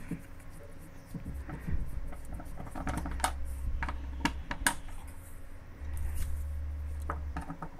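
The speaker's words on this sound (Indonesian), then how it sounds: "kita buka baut satu persatu" Bolts are loosened one by one on a washing machine that will not power on, giving faint clicky ratcheting and tapping, plus short low motor-like buzzes from a tool, close by with no talk.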